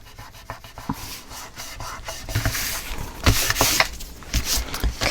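Paper layers of a mini album being burnished flat by hand, giving a steady run of soft rubbing and scraping strokes with small taps, fairly close and gradually growing louder, with no talking.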